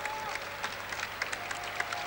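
Steady applause rises from a basketball arena crowd at a PAOK versus Makedonikos game, sustained clapping for players on the bench, with a commentator's voice faintly audible over it.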